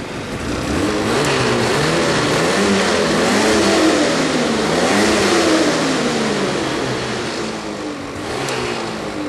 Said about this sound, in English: When you run the sled, you'll be able to see how much the clutch wants to move in or out.